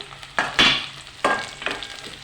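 Green chilies dropped into a hot pan for a simple okra tomato curry, giving a few sharp crackling sizzle bursts with quieter frying between them, close up and with no talking.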